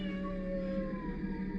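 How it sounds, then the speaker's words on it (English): A stray kitten meows in a 1945 radio drama, a thin, drawn-out, faintly heard cry over a quiet background hum. "that's my cat"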